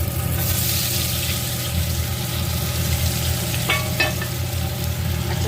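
Fried potatoes go into a pan for a rui fish curry, bringing a steady, close oil sizzle with a couple of brief utensil clicks midway and no talk.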